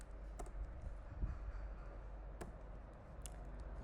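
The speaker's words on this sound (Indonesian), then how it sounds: "untuk penjelasan codingannya itu bakal setelah selesai dari saya ngetik coding ini ya" Computer keyboard typing programming code, with scattered quiet clicks and a few sharper keystrokes in an irregular rhythm, close and soft, with no talking.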